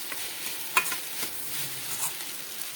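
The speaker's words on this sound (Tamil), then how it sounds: "ஒரு 2 நிமிஷம் மட்டும் வதக்கிக்குவோம்." Vegetables for a veg omelette sauté softly in a pan, with faint scraping and stirring sounds over a steady frying hiss, close by and fairly quiet.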